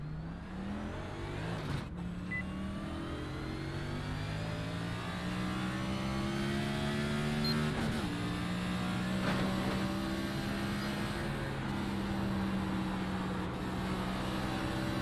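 NASCAR stock cars racing at Pocono in a field of 25, their engines droning loud and continuous with rising and falling pitch as cars sweep past, a dense steady roar throughout with no talk.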